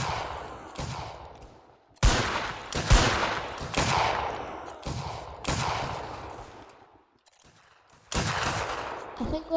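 Repeated musket volleys from massed ranks in a Mount & Blade Warband battle, about six loud, crackling bursts separated by short pauses, each trailing off into a rolling echo.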